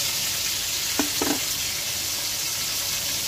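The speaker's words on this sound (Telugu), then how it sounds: "ఇవి బాగా వేయించుకోవాలి." Spices and ingredients frying in a pan for paneer biryani, a steady loud sizzle throughout with a couple of brief stirring scrapes near the middle.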